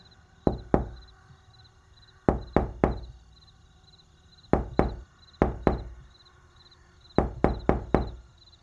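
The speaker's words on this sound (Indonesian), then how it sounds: "Bunyi seperti ketukan pelan dari dalam peti jenazah." Slow knocking from inside a wooden coffin for a horror scene: hollow, deliberate raps in clusters of two or three separated by silent gaps, with a faint steady chirping in the background.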